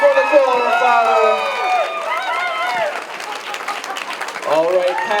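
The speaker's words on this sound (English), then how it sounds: "a big round of applause for Nicole and her father" Wedding reception guests applaud in a steady, broad wash of clapping beneath a prominent voice that carries across the room.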